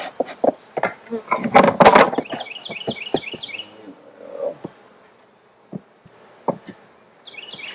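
Honeybees buzz around an open hive while it is expanded from a five-frame to a ten-frame box, with close wooden knocks and clunks from frames and lid handling over a steady faint hum.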